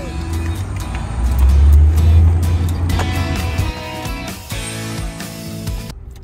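Low engine rumble and road noise fill the cabin of a moving car, loudest early on and then easing into a steadier hum, with occasional voices in the background.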